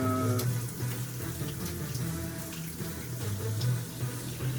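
Room-temperature water pours steadily from a tap into an instant noodle cup, a continuous close splashing stream with faint background noise throughout.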